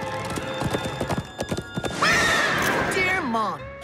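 Cartoon horse sounds: rhythmic hoof clip-clops under voices in the first half, then a loud, wavering horse neigh and whinny that drops in pitch at the end.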